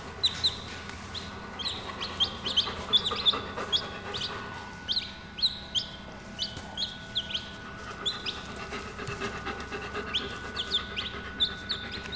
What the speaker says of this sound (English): So these are the other chicks that were born